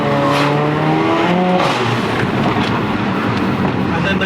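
A stage 3 tuned Mercedes CLA45 AMG revs with rising engine tones, then pulls away in a loud rush of engine and wind noise. Close and intense throughout.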